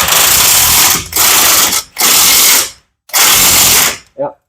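Impact wrench tightening wheel nuts on a 2005 Chevrolet Silverado during a CV axle install: three loud sustained bursts of whirring hammering, each about a second long, separated by short pauses, with a brief rattle at the end.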